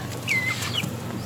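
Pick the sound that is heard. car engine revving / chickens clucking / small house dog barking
chickens clucking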